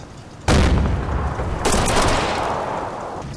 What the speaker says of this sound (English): he responds with a canister shot